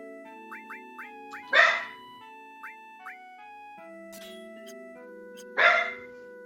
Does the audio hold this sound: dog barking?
yes